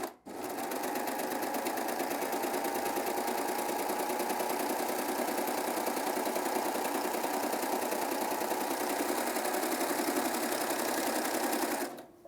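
A Baby Lock Acclaim serger gathers fabric with the stitch length near 3.5, running at a fast, even, whirring drone for about twelve seconds. It starts abruptly, keeps steady speed and stops cleanly. No one speaks.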